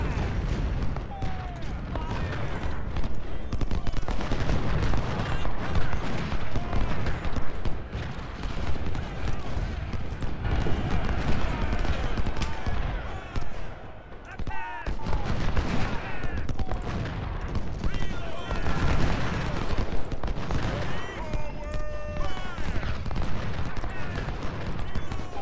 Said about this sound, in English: those cannons came out of fucking nowhere.